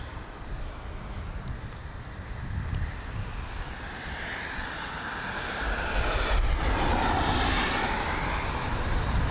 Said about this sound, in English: Oh, we've got a pushback right in front of us now.